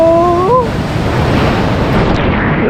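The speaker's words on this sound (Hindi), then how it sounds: "वेव आज बड़ी अच्छी आ रही है" Big ocean waves crash onto the shore in a loud, continuous roar of surf and rushing water close by, with wind buffeting the microphone and a brief voice heard at the start.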